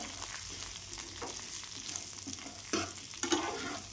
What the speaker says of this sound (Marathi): आणि छान फ्राय करून घ्यायचं। छान भाजून घ्यायचं तेलामध्ये मंद आचेवर।